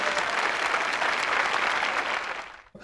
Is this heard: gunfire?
no